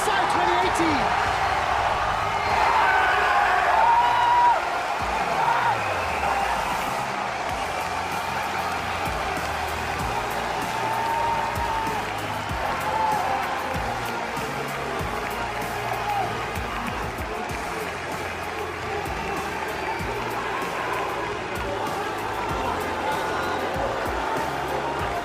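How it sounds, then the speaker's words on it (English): A large crowd roars and cheers at the League of Legends MSI 2018 Grand Final in France, a dense, continuous wash of noise, loudest at the start and holding steady throughout. "Listen to France as they are cheering"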